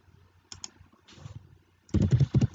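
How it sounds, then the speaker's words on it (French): Typing on a computer keyboard indoors: a few light isolated key clicks first, then a quick loud burst of rapid keystrokes close by, with no voices. "Et puis, je tape de nouveau."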